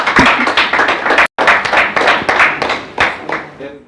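A group claps together during a short energizer activity in an agile-learning session, a dense flurry of hand claps with a sudden brief stop, then the clapping resumes and fades as a voice starts at the end.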